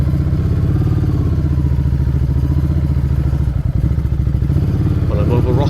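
An off-road motorcycle engine drones loud and steady as the bike rides over mud and rocks, with a few thumps and clatters from the terrain breaking up the constant close engine noise.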